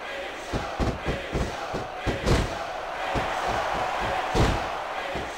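Wrestling arena crowd in the video game SmackDown vs Raw 2006, a steady roar of cheering punctuated by repeated heavy thuds and slams from the ring.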